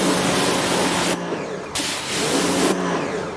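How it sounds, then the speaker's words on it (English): CarPro Iron X sprayed onto white car paint in a few hissing bursts, close and loud, with brief pauses between sprays. "spray it on this white paint"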